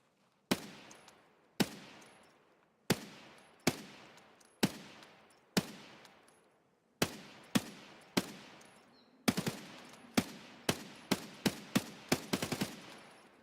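Gunfire in Escape from Tarkov, with loud, sharp single shots ringing out in a slow, uneven rhythm that speeds into a quick string of shots near the end, each trailing off in a short echo, no talking.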